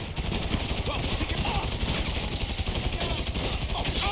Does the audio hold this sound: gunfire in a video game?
yes